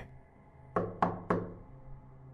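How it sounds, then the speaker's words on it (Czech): A door is knocked on three times, heavy and evenly spaced, each blow loud and booming against a quiet, low background. "V nočním tichu se znovu ozvalo hřmotné klepání, následované zvoněním zvonku."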